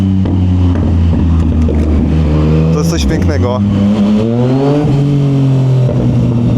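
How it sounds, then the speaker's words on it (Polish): A car engine revving hard through its exhaust, the pitch climbing and dropping in loud close surges with sharp crackling bursts, while someone talks over it. "Ja uwielbiam dźwięk tego wydechu z tymi popsami"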